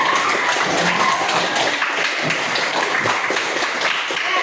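A classroom of students claps together in sustained, dense applause, a steady wash of many hands close by with no pauses.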